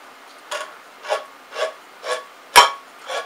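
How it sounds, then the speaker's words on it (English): A hand file rasping across the cut edges of a metal tin can, six evenly spaced strokes, with the fifth sharper and louder, close and alone without talk. "I like to go around with a file just on the edges in there, just to smooth them down"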